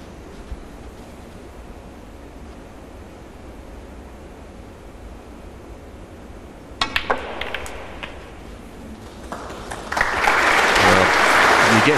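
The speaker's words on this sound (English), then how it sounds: "He gets a clap for that shot," Snooker crowd at a 2010 Premier League match breaking into applause after a shot, a few scattered claps first, then a louder, sustained round of clapping from the audience.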